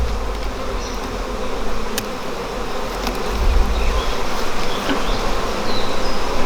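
Honey bees buzz around an open hive during an inspection, a dense, steady droning hum close by with occasional light clicks of frames being handled.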